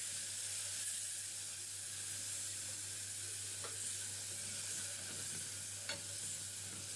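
Garlic and coriander fry in a pan for Egyptian fatta as vinegar goes in, giving a steady, even sizzle and hiss with occasional stirring, no talk.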